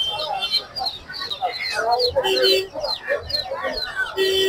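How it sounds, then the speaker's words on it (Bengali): Chickens cluck and chicks peep at a busy weekly poultry market selling ducklings, chicks and hens, a close clamor of calls mixed with people talking. "আপনারা দেখতে পাচ্ছেন এখানে পিছনে হাঁসের বাচ্চা আছে, মুরগির বাচ্চা এবং অসংখ্য মুরগি।"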